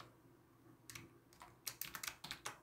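Keystrokes on a computer keyboard while Python code is typed in, a quiet and irregular run of light clicks that grows into a quicker cluster near the end, with no talking.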